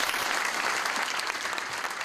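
Long, steady applause fills a political convention hall in memory of the Paris shooting victims, a dense wash of clapping that holds at full volume from start to finish with no voices above it.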